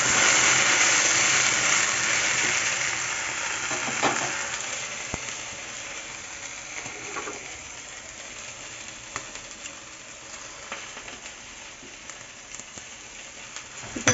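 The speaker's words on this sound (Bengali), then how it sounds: "এদিকে ভিন্ডি ভাজা বসিয়েছি" Okra (bhindi) fries in a pan with a steady hiss and fine crackle. It is loudest at the start and then settles to a quieter sizzle, broken by a few soft clicks and scrapes.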